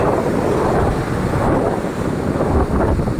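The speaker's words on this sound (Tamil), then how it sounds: "அலை அதிகமாக இருப்பதால், காற்று அதிகமாக இருப்பதால்" Strong wind buffets the microphone at Marina Beach while heavy surf rolls in, a constant loud roar of gusts and breaking waves with no voices.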